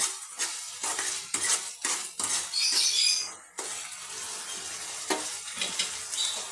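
Peas frying in a covered pan over high gas, with a constant sizzle broken by clanking of a spoon stirring against the pan and lid, close and fairly loud with no talk.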